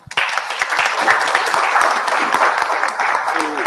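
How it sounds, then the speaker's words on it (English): Attendees at a healthcare innovation panel session break into applause for the panelists, a full steady clapping that rises quickly and holds evenly, with faint voices mixed in beneath. "Another round of applause, ladies and gentlemen."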